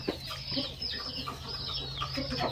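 A fighting cock being treated for a neck swelling after a cockfight gives soft, scattered clucks, quiet and close over a steady low background hum.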